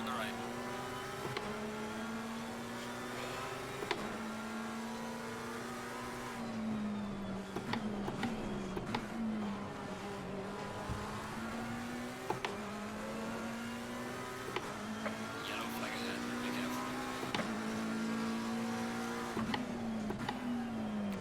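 A Porsche engine in a racing video game played on a McLaren GT3 sim wheel hums and shifts pitch through gear changes, rising and falling steadily over a long stretch, fairly faint with a voice talking over it.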